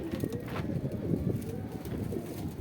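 Kalsira pigeons coo softly at close range, with low, repeated throaty calls over a gentle background murmur.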